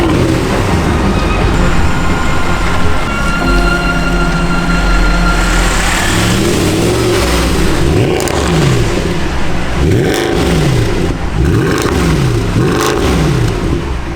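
Wrecked Mercedes E63 AMG engine idles with a deep rumble, then is revved in a series of sharp throttle blips that rise and fall in pitch, loud and close, with no talk.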